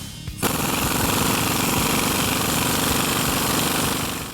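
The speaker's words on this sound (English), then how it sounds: "A very powerful electric gun or an air gun is really going to be helpful with tightening this." A powerful impact gun hammers on a strut spring compressor during an F-150 leveling kit install, starting abruptly after a brief lull and then rattling loud and continuous to the end.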